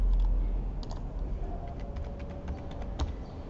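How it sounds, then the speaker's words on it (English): Password being typed on a computer keyboard, a short run of light, irregular key clicks close by, alone without speech. "Then come and type the password."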